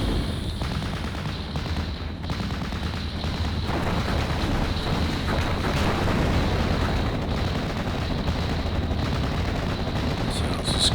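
Anti-tank guns fire during a battle in the World War II strategy game Normandy 44, a continuous loud barrage of overlapping shots and booming impacts with no let-up.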